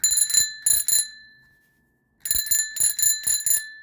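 A bicycle bell is rung as a test, two quick bursts of bright metallic dings, three rings each, separated by a short silence, close and clear with nothing else audible.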